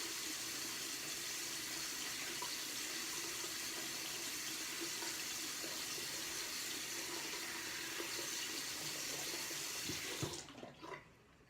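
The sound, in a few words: tap water running while rinsing soap off face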